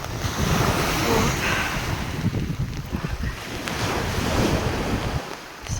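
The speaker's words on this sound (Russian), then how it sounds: "Такие волны всю ночь бухали." Wind-driven waves surge and crash steadily on the stormy shore of Lake Ladoga in rain, a continuous close roar of surf with heavy wind buffeting the microphone.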